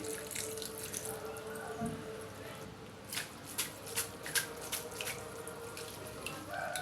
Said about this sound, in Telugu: పైనుంచి చల్లని వాటర్ పోసుకుందాం ఇలా పోసుకోవడం వల్ల జిగురంతా పోయి పొడి పొడిలాడుతూ వస్తాయి